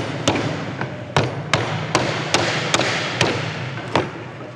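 Repeated hammer blows on a bed frame during bed building, about ten sharp thuds at an uneven, roughly steady pace, close and loud over a low background hum.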